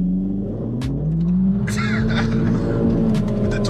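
A 2008 Volkswagen Golf GTI MK5 hot hatch accelerating hard with traction control off, its engine note climbing steadily in pitch through a sustained, loud, close-up pull from inside the cabin.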